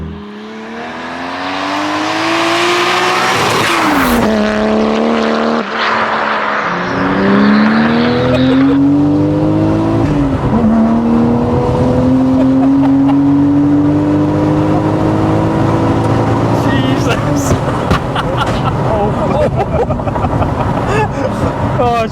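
A Toyota JZX90 Mark 2 with a 1JZ engine revs hard while drifting, a loud, close engine note sweeping up and down in pitch continuously throughout.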